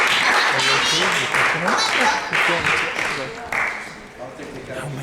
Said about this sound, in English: Everyone give a clap for these actors.